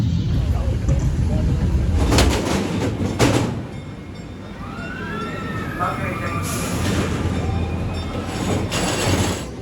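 An empty amusement park ride train at Knott's Berry Farm rolls past with rumbling wheels and a high metallic squeal, steady mechanical noise throughout, with a brief quieter stretch in the middle.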